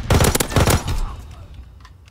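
Rapid bursts of gunfire in the World War II shooter Call of Duty WW2, on the London Docks map in a search-and-destroy match: several loud, close shots in quick succession that fade out after about a second.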